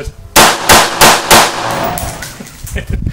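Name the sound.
M16 rifle gunfire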